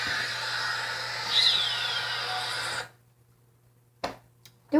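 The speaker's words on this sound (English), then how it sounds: "this is a very loud bird that sounds like Squeaky Toy" A very loud bird gives a harsh, high, squeaky-toy-like call that holds for nearly three seconds, then cuts to near silence before two short, sharp sounds near the end.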